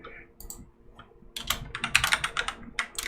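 Rapid keystrokes clatter on a computer keyboard, starting with a few sparse taps and building into a quick, close burst of typing.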